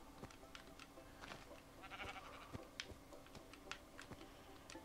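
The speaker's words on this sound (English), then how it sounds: "More sheep." Minecraft sheep bleat in short, soft bursts amid a busy game soundscape, with light clicking like keyboard typing running underneath and no talking.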